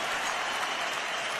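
A crowd cheers and applauds at a CS:GO esports grand final, SK versus Astralis at BLAST Pro Series Copenhagen 2017, as a dense, steady roar of noise from a large arena audience.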